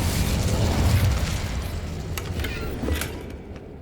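Incendio fire spell cast repeatedly in the video game Hogwarts Legacy, a sustained roaring, crackling burst of flame with a heavy low rumble that swells at the start and flares again near the end.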